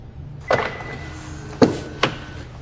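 A Genesis GV60 unlocks by face recognition and its door opens, giving three distinct mechanical clunks and latch clicks spread over about two seconds against a low background rumble.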